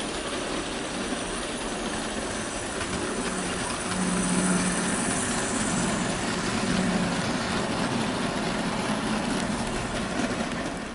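Model train locomotive pulling nine wagons plus a breakdown vehicle around a layout, a steady rolling rumble with faint rhythmic rail clatter and a slight swell in loudness midway, no voices.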